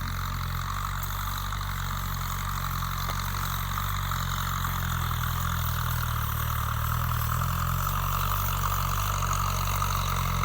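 A Kubota M6240SUH tractor engine runs steadily in a paddy field, holding a constant low idle-like drone with no change in pace, moderately loud and close throughout.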